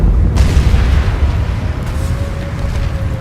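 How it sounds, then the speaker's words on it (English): Orbital cannon strike in Planetside 2, a deep booming explosion that hits loud at the start and rolls on as a long rumbling tail, with no talk over it. "Oh, someone's doing an orbital cannon thing."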